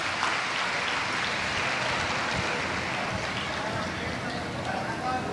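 A huge audience at a Shiv Mahapuran religious discourse in Varanasi applauds for the preacher, sustained dense clapping that stays steady and loud throughout.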